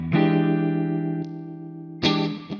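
Clean electric guitar chords through a modeled Fender 65 Deluxe amp ring out with a warm tone and light reverb, a long sustained strum, then a brief pluck and another bright strum near the end.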